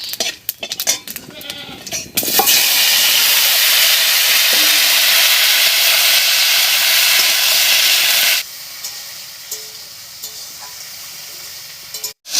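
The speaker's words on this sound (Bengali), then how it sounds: "ফোড়নটা ভাজা হয়ে গেছে এর উপরে এবার কেটে রাখা লাউটা দেবো" Chopped bottle gourd drops onto cumin seeds and bay leaves tempered in hot oil, setting off a sudden loud hissing sizzle that holds for about six seconds, then drops to a quieter steady bubbling after some earlier clatter.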